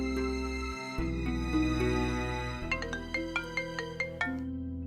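An electronic phone ringtone plays a repeating melodic tune, then shifts into a rhythmic series of short chiming beeps, clear and close.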